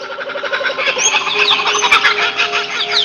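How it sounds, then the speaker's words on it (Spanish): A kookaburra's laughing call, a loud, dense run of rapid cackling notes that rises and churns continuously for a few seconds, close and alone with no voices. "La risa del cucaburra."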